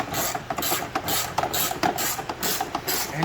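Ratchet wrench clicking in short bursts while loosening a 10 mm bolt behind the air intake of a 2008-2014 Lexus IS F, close and loud, with no talk.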